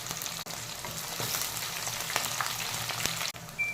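Curry leaves and dried red chillies fry in hot oil with a steady, close sizzle and sharp crackling spatters, alone and without voices.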